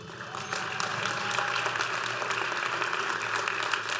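Audience applauding graduates at a 2014 conference closing ceremony, sustained even clapping from a fairly distant crowd in a large hall, steady throughout with a low hum beneath.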